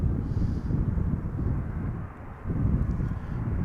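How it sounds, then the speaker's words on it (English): A Transavia Boeing 737-800 arriving from Malaga roars low and steady as it touches down at Schiphol Airport, a heavy rumbling engine wash mixed with gusty wind buffeting, briefly dipping before swelling again. "Transavia flight 6116 up next, about to touch down here."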